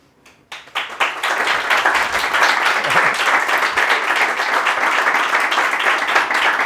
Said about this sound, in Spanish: Esto de aplaudir lo podíais haber ahorrado.